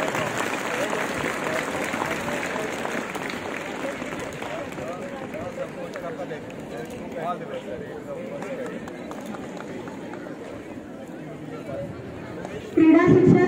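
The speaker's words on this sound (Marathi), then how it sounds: "टाळ्या वाजल्या पाहिजे जोरात." Applause at a school sports week opening ceremony at Shrikishan Somani School, a steady roomful of clapping that runs on under an announcer's voice, ending in a louder burst near the close.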